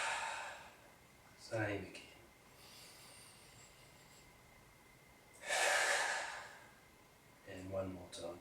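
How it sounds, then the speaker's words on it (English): A person doing a qigong exercise in a tai chi lesson takes slow, deep breaths. Long airy inhales and exhales are audible, with the clearest one near the middle. Speech is heard briefly between the breaths. "We're taking 3 big deep breaths. Okay, nice big breath in"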